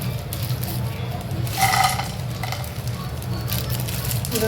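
Peanuts frying in oil in a kadai, a soft continuous sizzle with occasional scraping stirs and light clinks, fairly close and moderately quiet.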